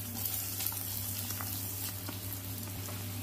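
Onions fry in sesame oil in a wok, giving a soft, steady sizzle with faint crackles over a low background hum. The sound stays fairly quiet and unbroken, with no speech.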